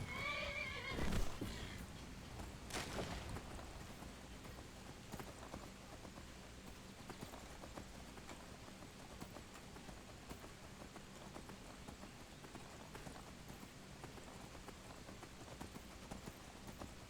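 A horse in Skyrim gives a loud whinny near the start, followed by steady clip-clopping hooves over a soft rain-like wash of ambient game sound.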